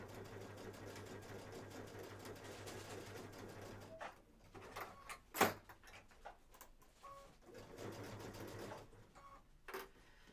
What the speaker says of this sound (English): I'm going to back stitch a couple